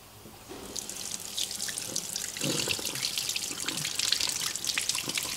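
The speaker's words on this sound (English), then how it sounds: "you have to wash your hands" Running water from a sink tap splashes steadily as hands are washed before cooking spaghetti, a continuous close hiss and patter that grows slightly fuller partway through, with no talking.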